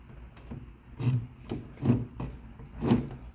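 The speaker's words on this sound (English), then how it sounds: "see if you can scratch right here on the edge" Something hard scrapes along the edge of a wooden cabinet coated in Sherwin-Williams paint, giving three or four short, close rasping strokes, each a brief scratch with quiet gaps between.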